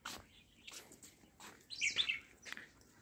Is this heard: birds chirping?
yes